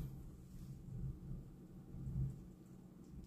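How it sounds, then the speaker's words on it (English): Low, rolling thunder rumbles through a rainstorm, swelling twice to soft peaks before easing, faint and distant with no voices. "y'all hear the thunder?"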